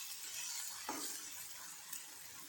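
Onion sizzles softly in a pan for pithla, with a steady faint frying hiss and a couple of light clinks as it is stirred.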